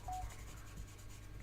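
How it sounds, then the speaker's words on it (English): A phone left switched on gives one short electronic beep right at the start, faint and thin over a quiet room hum, with nothing else following. "I forgot to turn my phone off."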